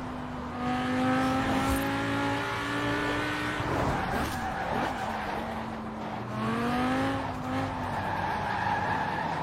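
A car without snow tyres understeers on a snowy road, its engine note rising and falling with sustained tyre squeal and scrubbing, loud and close, with no talk.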